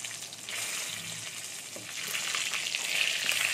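Pieces of pointed gourd (potol) fry in hot oil with a steady, close, fairly quiet sizzle that grows a little stronger and more crackly toward the end.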